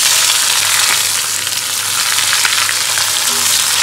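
Onions hit hot oil in a pan with whole spices such as bay leaf, producing a loud, dense, continuous close sizzle with no talking.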